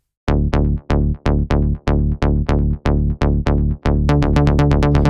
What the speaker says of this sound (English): Bass Rebellion is a nice plucky bass, and it has quite some OTT on it